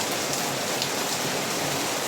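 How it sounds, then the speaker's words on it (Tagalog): Heavy rain pours down steadily, a dense, constant hiss of drops hammering a surface, loud and close with no pauses. "napakalakas ng ulan, no? Umuusok."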